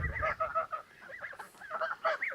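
Geese on a small farm honk in a run of repeated nasal calls, several overlapping, close and fairly loud with short pauses between bursts.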